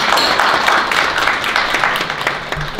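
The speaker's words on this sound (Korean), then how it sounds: "큰 박수로 맞이해 주시기 바랍니다." Loud, dense applause fills a Korean urban-design lecture hall as the audience welcomes a professor, a continuous roar of many hands that eases slightly toward the end.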